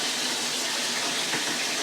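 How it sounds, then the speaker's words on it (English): Hot water pours from a tap into a 4-ounce cup, giving a steady, even rushing splash that runs unbroken for the whole moment with no voices. "I'm going to fill it up with hot water."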